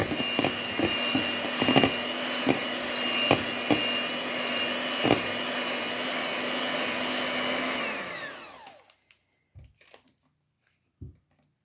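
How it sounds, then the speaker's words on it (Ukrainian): An electric hand mixer whirs steadily at low speed through melted butter and oil for cake batter, with beaters knocking the bowl a few times before the motor winds down and stops, leaving faint handling clicks. "І на маленькому обороті перемішати"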